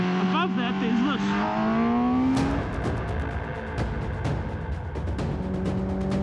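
A Kawasaki ZX10R sport motorcycle engine climbs through high revs beyond 9,000 rpm, its rising whine loud and close, with a sharp shift followed by crackling bursts and continued throaty revving.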